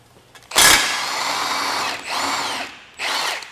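Power tool loosening the strut mounting bolts on a 2019-2025 Honda Passport during a lift kit install, heard as a loud burst followed by sustained whirring and a second shorter run, close up with no talk.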